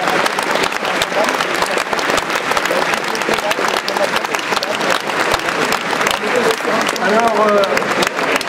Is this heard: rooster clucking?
no